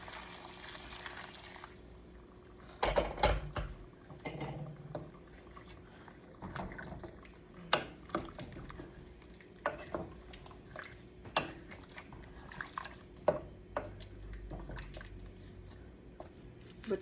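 Water is poured into a cooking pot for pork adobo, with soft sloshing, splashing and intermittent drips and clinks over quiet kitchen background noise.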